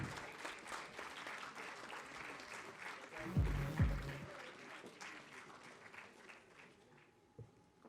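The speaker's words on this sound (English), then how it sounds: "Let's give all of them a big round of applause." Audience applause for dignitaries on stage at an International Women's Entrepreneurship Day event, a steady wash of clapping across a large room that swells briefly midway and thins toward the end.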